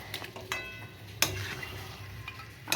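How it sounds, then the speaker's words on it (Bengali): Meat and spice masala being stir-fried in a pan, with a soft steady sizzle broken by a few sharp scrapes and clinks of the spoon against the metal. "এবারে মাংসটা দিয়ে মশলা দিয়ে কষাবো।"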